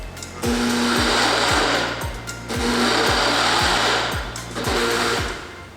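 Blender pulsing a melon scrub mixture of food ingredients in three loud whirring bursts, each motor run ramping and briefly easing between pulses.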